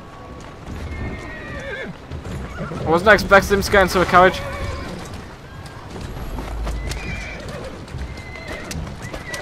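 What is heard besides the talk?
horse galloping and neighing in Assassin's Creed Syndicate video game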